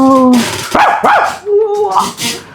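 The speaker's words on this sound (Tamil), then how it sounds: "நாயெல்லாம் குலைக்கிற சவுண்டு கேக்குது எனக்கு" A dog barks and yelps several times up close, with whining tones in between and a voice mixed in.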